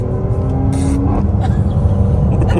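A sports SUV engine revs hard and crackles with a backfire pop, loud and close over a couple of seconds, with a brief voice in the background.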